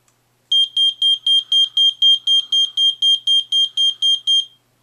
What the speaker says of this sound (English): The red light flashes and it beeps, as you heard